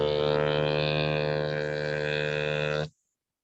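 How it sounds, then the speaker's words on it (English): Didgeridoo basic drone made by blowing a raspberry into the hollow tube, a steady buzzing low tone with rich overtones held for nearly three seconds, close and alone, then cutting off. "when you blow a raspberry into it, like, you get a sound"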